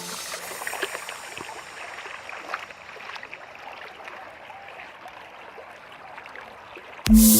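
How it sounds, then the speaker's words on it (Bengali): A strong river current rushes steadily past a cyclist crossing near the Banshi Hari bridge, a broad, continuous wash of flowing water heard up close, with a sudden loud burst at the very end. "প্রচণ্ড স্রোত, যেতে পারছি না।"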